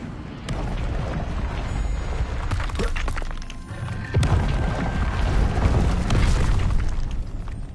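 A fire spell cast in Hogwarts Legacy, a loud, dense burst of whooshing flame and booming impacts that surges again midway and carries on, crackling, without talk.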